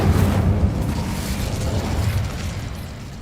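A fire spell bursts out in Hogwarts Legacy, a dense low rumble that flares loudly at the start and rolls on steadily before easing off slightly, with no voices.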